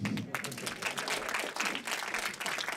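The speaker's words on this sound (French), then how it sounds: "On va applaudir ma mère, s'il vous plaît." Brief applause from an audience at a Paris film screening, a short burst of clapping that swells and dips over a few seconds, fairly quiet and somewhat distant.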